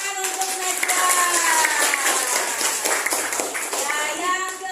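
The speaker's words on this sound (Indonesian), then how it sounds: "tepuk tangan untuk Najwan." Schoolchildren in an Indonesian classroom clap together in a lively burst that runs throughout, with a few excited young voices and an adult speaking over the clapping.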